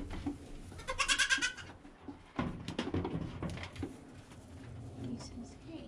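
A baby goat kept in a small pen bleats in short, shaky, close-up cries, with a wavering call early and more bleats after a pause, over light rustling and handling noise.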